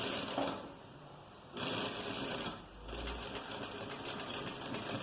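A sewing machine hums close by as it sews an armhole seam on the wrong side of a garment. It runs in steady bursts with a short break and a rapid mechanical chatter throughout.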